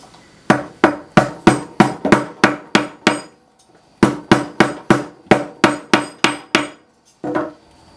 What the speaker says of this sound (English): you're going to need a hammer. I've got my hammer right here